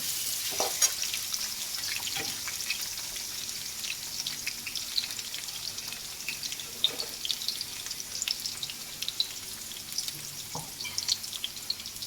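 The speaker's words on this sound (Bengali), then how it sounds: "প্রথমে আমি আলুটা দিয়ে দেবো যেটা ধুয়ে নিয়েছিলাম আলুটা ভেজে নেব" Potatoes, washed beforehand, fry in a pan for a potato and onion-greens bhaji, giving a steady, moderately loud sizzle with light crackles and occasional stirring scrapes, with no voices.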